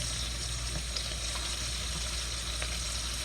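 Coconut milk simmers on medium heat in a pot to draw out its oil, giving a quiet, constant frying sizzle with occasional faint pops over a low steady hum, close and without talk.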